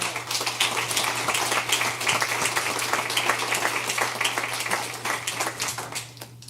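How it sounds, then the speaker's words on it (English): A conference audience at a business meeting claps in a sustained, full round of applause, dense and even throughout with a steady low hum beneath, thinning slightly at the very end. "One more big round of applause for all of the conference planning people."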